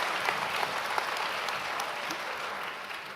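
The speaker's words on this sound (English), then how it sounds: "Can we clap for them?" Sustained applause from a commencement audience at Stephens College, a dense wash of clapping at moderate distance that holds steady throughout.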